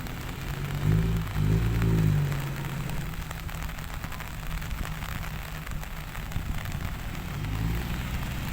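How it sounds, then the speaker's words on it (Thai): Steady rain pours down on a work site where excavators are operating, a dense, even hiss throughout, with a low machine rumble rising briefly near the start and again at the end. "ตอนนี้ฝนตกแล้วครับ"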